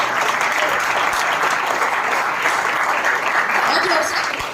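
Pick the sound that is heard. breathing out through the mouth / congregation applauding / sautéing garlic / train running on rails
congregation applauding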